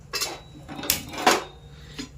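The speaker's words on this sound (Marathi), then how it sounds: "चला, आपण ठेवूया आता कुकर मोठ्या गॅसवरती" Metal pressure cooker set down on a gas stove burner in a home kitchen, a few distinct clanks and knocks of metal on metal, close and moderately loud with no talking.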